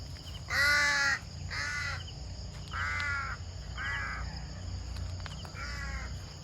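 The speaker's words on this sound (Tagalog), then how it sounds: "Uwak, nauban-uban sa ako panigwig baka." A crow caws five times in uneven succession, harsh and fairly close, over a low steady background rumble, while cattle graze.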